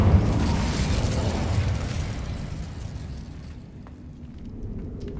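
Incendio fire spell cast in Hogwarts Legacy, a loud rumbling, crackling whoosh that starts strong and gradually fades over several seconds into faint sparkling ticks, with no talking.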